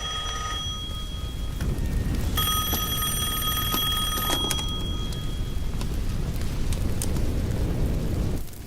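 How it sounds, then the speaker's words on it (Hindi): A telephone rings with a bright, electronic trill that starts and stops in bursts over a steady, heavy rumbling background in a dramatic film scene. "वो फोन है।"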